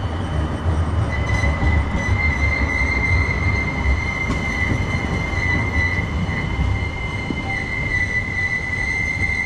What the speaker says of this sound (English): I discovered a section of track where trams ascend a pretty steep grade